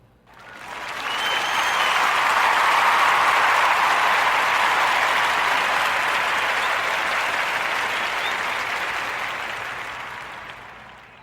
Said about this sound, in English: Join me in giving this brother a warm narrative podcast round of applause.